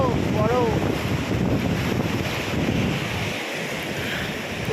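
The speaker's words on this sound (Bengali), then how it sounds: "জলের ধারা বয়ে যাচ্ছে" A cold, clear river stream flows near a lake. It makes a steady, loud broadband rush of water mixed with wind buffeting the microphone, with a faint voice-like tone briefly at the start.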